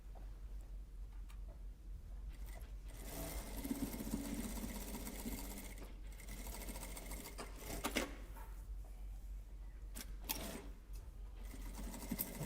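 A new sewing machine stitches a gown bustier in rapid, buzzing runs, starting and stopping in short bursts over a quiet room hum, with no talking.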